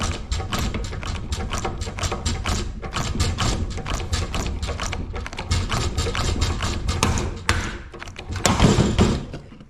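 Continuous grinding, rattling noise from a power tool driving a hole cutter through material, steady and loud throughout with a heavier surge near the end.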